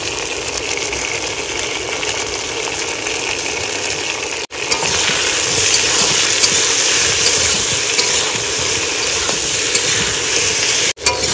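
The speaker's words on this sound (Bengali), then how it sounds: "মশলা সব দিয়ে আলু কষাই করা হয়ে গেছে" Potatoes fry in a pan with ginger paste, coriander and cumin powder, sending up a loud, continuous sizzle that swells after a brief cut as they are stirred. The sizzling goes on with no one talking.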